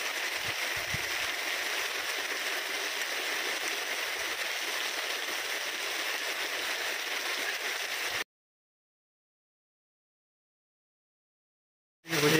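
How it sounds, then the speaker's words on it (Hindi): Heavy rain pours down in a continuous, dense hiss around a rural home for about eight seconds, then the sound cuts to silence before briefly returning at the end. "तेज बारिश हो रही है"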